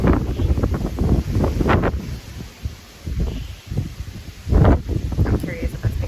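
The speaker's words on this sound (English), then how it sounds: "It's not raining yet. It's just so windy." Strong, gusty wind ahead of an approaching hurricane buffets the microphone in uneven bursts, with rustling and rumbling surges that rise and fall throughout, and a person speaks briefly over it.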